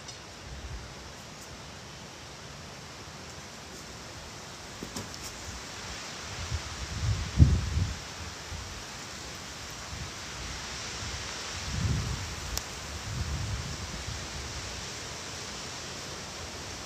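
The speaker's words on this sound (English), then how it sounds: "Raining again." Rain falls outdoors as a broad, steady hiss of drops, with a few heavier gusty swells around the middle and a soft rustle underneath, no voices.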